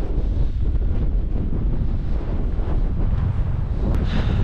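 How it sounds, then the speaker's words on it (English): Strong wind on the Isle of Skye blasts across the microphone as a loud, continuous low roar and buffeting rumble that never lets up, with no talking. "And the wind is just catching the tops of it."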